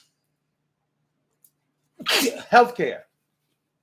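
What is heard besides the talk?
sneeze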